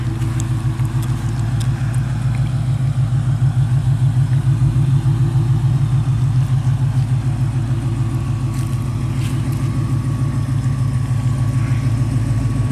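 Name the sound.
2004 Cobra car engine and exhaust idling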